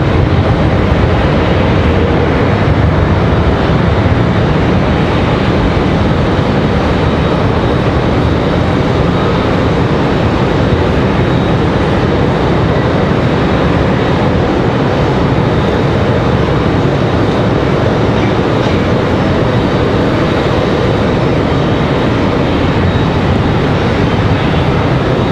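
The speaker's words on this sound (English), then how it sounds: "JetBlue and that E195 off and running." A JetBlue Embraer E195 jet rolls down the runway for takeoff at Raleigh-Durham International Airport, its engines a loud, constant broadband roar that holds steady throughout.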